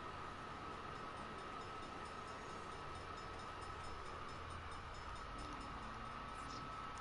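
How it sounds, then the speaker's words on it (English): A train rolls past in the Saints Row video game, a steady, continuous rumble with a faint tonal hum holding at an even loudness throughout, with no voices over it. "Hell of a time for a train."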